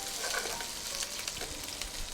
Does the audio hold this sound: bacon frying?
yes